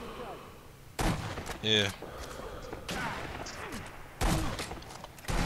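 Sniper rifle shots in the Sniper Elite V2 video game, with several sharp, loud bursts spaced through the clip under a player's voice and game chatter.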